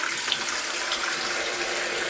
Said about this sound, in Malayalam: വെള്ളം എടുക്കുന്നുണ്ട് ചോറിന്.